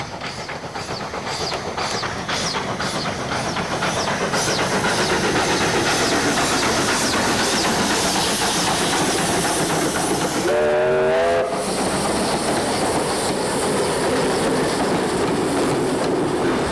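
A steam locomotive, number 18, climbs toward Robertson in the Southern Highlands, chugging steadily and loudly with rhythmic exhaust beats, and a long whistle sounds about two-thirds of the way through.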